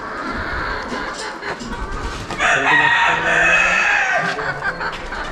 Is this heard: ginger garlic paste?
no